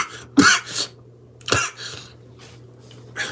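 A person coughs up close: two sharp, harsh coughs spaced about a second apart, followed by softer throaty rasps, with a steady low hum behind them.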